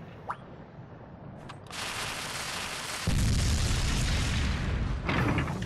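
A bomb goes off in the Monster Hunter Stories video game as a loud, sustained rumbling blast that swells and then holds at full strength, following a few faint clicks.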